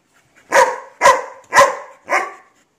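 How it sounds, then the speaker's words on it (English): A dog gives a demanding bark: four loud, close barks in an evenly spaced rhythm about half a second apart, the last slightly softer. "Demanding bark."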